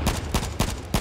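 Four quick gunshots in the battle royale game H1Z1, fired in a fast irregular burst. Each shot is a loud, sharp crack with no talking over it.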